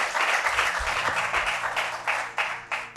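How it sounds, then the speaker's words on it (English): Applause at a school quiz competition semi-final in Ogun State, a dense patter of hand claps with slight surges and dips, fairly close and continuous for about three seconds. "A round of applause for"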